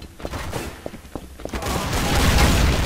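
Gunfire in the video game Counter-Strike: Source, with a few sharp shots followed by a dense, sustained burst of rapid fire that builds toward the end. The game audio is fairly loud and close.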